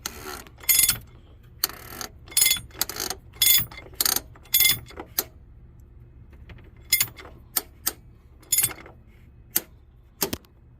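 A ratchet wrench tightens a fuel filter on a Freightliner Cascadia truck with a DD15 engine, heard as repeated bursts of sharp, close clicking separated by brief pauses, with no talking.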